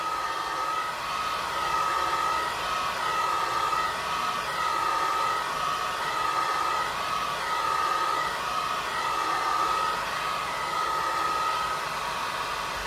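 A heat gun blows a steady, loud rushing stream of hot air onto the power supply board of a PYE 20VR22 V2000 VCR, holding a constant tone with slight swells as the nozzle moves across the secondary side.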